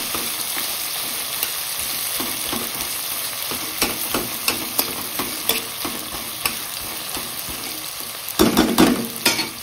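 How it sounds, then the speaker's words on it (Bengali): Chopped onions frying in hot oil with spices for mutton bhuna, stirred by hand with repeated scraping strokes over a steady sizzle, a louder burst of frying near the end. "3টে কাটা পেঁয়াজ দিয়ে ভালোভাবে এটাকে নেড়ে নিতে হবে যাতে মশলা এবং তেলের সঙ্গে পেঁয়াজটা ভালোভাবে মেশে।"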